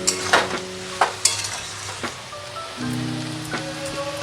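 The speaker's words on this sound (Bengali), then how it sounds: "এবার আমি পুঁই শাকটা দিয়ে দেব।" Malabar spinach goes into vegetables already frying with turmeric in a pan, giving a few sharp splashy hits and stirring clatters over a soft steady sizzle, close and without talk.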